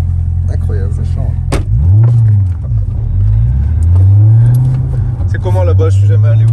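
Red Corvette Z06 with a 7-litre V8 making over 500 hp, heard from outside: a loud, close low engine drone that rises and falls through several revving swells, with people talking over it.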